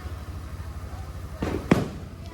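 Two quick firecracker bangs for Diwali sound a moment apart over a low background hum, fairly distant and not very loud.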